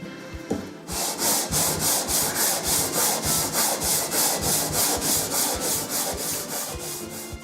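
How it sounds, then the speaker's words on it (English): Hand sanding of a cheap electric guitar's wooden body with coarse grit paper, a regular back-and-forth rasping rhythm of about two to three strokes per second, close and loud, with no voices. "So there we have it, sanded down."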